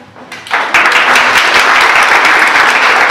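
An indoor audience at a homemade liqueur and spirits contest breaks into loud applause for the winners, the clapping swelling quickly and holding dense and sustained.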